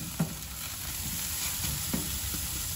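Ribeye steaks sizzle steadily on a grill after being flipped, a continuous hissing fry with a few soft clicks and scrapes, no voices.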